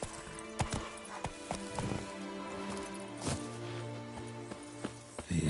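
Horse hooves pound in The Witcher 3 video game as the horse gallops, irregular close thuds over a steady background hum.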